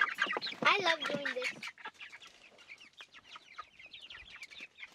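Mixed Easter egger laying hens cluck and squawk up close, loud at first and then settling into busy, quieter chatter.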